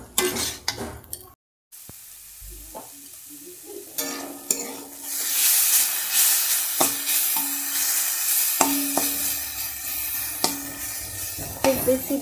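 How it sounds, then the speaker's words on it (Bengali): Chowmein frying in a pan makes a loud, continuous sizzle with repeated stirring scrapes and clinks of a utensil against the metal. A brief silent gap comes early on, and then the frying builds and holds steady. "খুব বেশি ডিপ ফ্রাই করবো না, অল্প অল্প একটু ভাজবো।"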